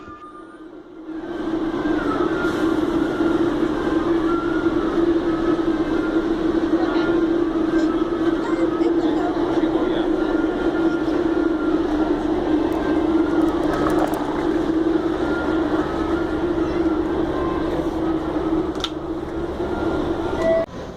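A Boston subway train rumbles loudly and steadily throughout, with a constant low drone, wheel noise and occasional metallic squeals.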